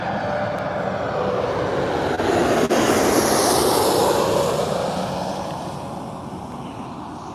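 Jet airliner touching down at Gold Coast airport on a wet morning, a loud sustained broad roar that swells and holds, then slowly fades as it rolls out.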